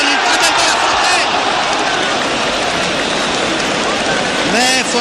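Stadium crowd noise from a 1959 France versus Spain football match, a steady broad roar resembling applause held throughout, with a commentator's voice rising over it near the end.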